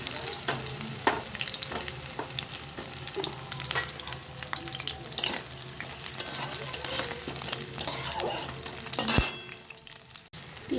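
Chopped onions sizzle and fry steadily in a pan for a chicken rezala, with occasional stirring scrapes and a light clink near the end, continuous and close with no talk.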